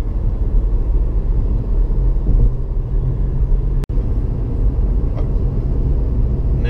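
A 2016 Honda Civic rounds a corner with a steady, close, low engine and road rumble, broken by one sharp click partway through.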